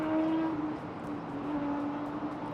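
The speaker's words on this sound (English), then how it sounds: "And yes, you do hear the traffic now" City street traffic rises from below a high-rise condo balcony in Houston, a steady, fairly faint wash of engine noise with a sustained droning tone and no voices over it.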